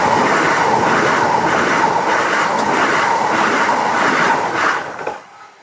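A train rushes past at close range on a Saturday evening, a loud continuous rumble with faint clickety-clack rhythm that fades away in the final second.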